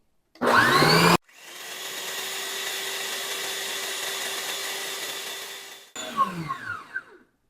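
An electric mixer beats gluten-free bread dough, starting with a short loud burst, then a long steady motor whine, then several uneven, knocking bursts as it stops and starts again.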